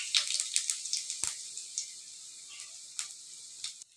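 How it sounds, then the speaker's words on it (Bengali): Whole cumin seeds crackle and spit as they hit hot oil in a wok, a close, fairly quiet run of sharp pops over a soft sizzle, fading toward the end. "এবার সাদা জিরে ফোড়ন দিলাম।"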